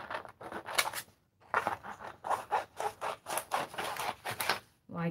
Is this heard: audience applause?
no